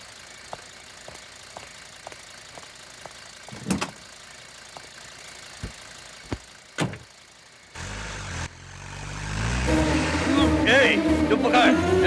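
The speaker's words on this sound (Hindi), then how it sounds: "मैडम गाड़ी स्टार्ट हो गई मैडम।" A car in a Hindi-dubbed South Indian action film cranks and fires up, then settles into a rising, steady engine drone. Faint regular ticking and a few clicks come before the start.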